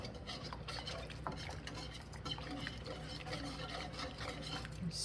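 Cornstarch slurry is stirred into beef stir fry in a pan, making soft continuous liquid swishing and light utensil scraping, quiet and steady throughout.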